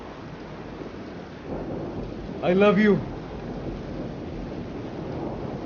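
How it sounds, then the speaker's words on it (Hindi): Heavy rain pours steadily with a low thunder rumble in the background, while someone speaks briefly over the constant downpour hiss. "बारिश हो रही है बहुत।"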